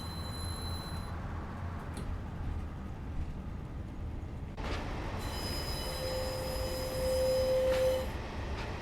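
A Class 142 Pacer diesel multiple unit runs in Train Sim Classic, a continuous rumble of wheels and engine with a sharper rise midway, a sustained squealing tone later and steady clatter beneath.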